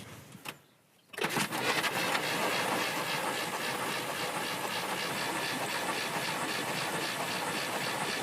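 A Chevelle V8 cranks over on the starter during a compression test, a steady loud churning drone that starts abruptly after a brief pause and runs continuously without a break.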